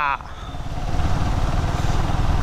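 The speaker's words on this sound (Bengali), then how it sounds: "আমরা কুয়াকাটায় বীচ ধরে আর কি বাইক চালাচ্ছি।" A motorcycle ridden along Kuakata beach in Bangladesh drones with a steady, close engine hum that builds slightly, following a brief voice at the very start.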